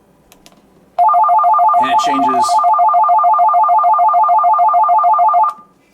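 An electronic call alert tone from a Midland MTX500 40-watt GMRS radio warbles in rapid, evenly repeated two-note pulses for about four seconds, clear and close, with a brief voice near the start.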